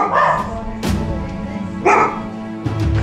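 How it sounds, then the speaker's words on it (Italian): Dogs barking in a mountain village in Val Chisone, three sharp barks spaced across the stretch over a low background murmur, close and loud. "i cani hanno anche fame e abbaiano"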